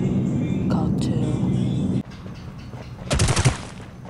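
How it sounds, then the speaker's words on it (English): Gunfire in the battle royale video game Rules of Survival crackles in a brief burst of shots late in the clip, heard over a steady engine-like game drone. "Who the heck is shooting outside?"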